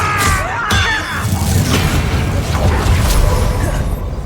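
An Expelliarmus spell in Hogwarts Legacy goes off as a booming, crashing magical blast with a whoosh, loud and dense over a rumbling battle din.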